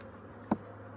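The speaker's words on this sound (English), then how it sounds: "Let me just move these bees a little bit so I don't squish anybody" A low, steady buzz of bees around hive frames hums throughout, with one brief soft knock partway through.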